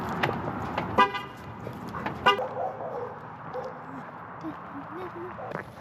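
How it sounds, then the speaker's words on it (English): A car locking with short horn chirps, two brief honks about a second apart, followed by outdoor ambience with people talking. "I'm gonna lock up the car"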